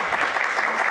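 A short burst of audience applause after a harpsichord master class, dense and fairly loud, with no talk in the clip.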